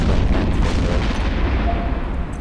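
A barrage weapon firing on a spaceship in EVE Echoes, heard as a heavy, continuous rumbling boom that tails off slightly, loud and dense, with no voices.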